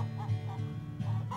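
Hens in a hatching egg barn fitted with laying nests cluck softly in short, repeated bursts, fairly close but quiet, with no talk over them.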